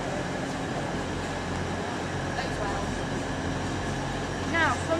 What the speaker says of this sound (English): And here comes an Azuma. 800-103.